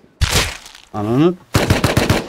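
Automatic AK rifle fire in the Rust survival game: a short burst near the start, then a second dense rapid volley at the end, with a brief harmonic tone between them.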